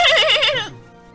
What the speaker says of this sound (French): tendit sa patte au beau cheval sauvage qui venait d'arriver dans la plaine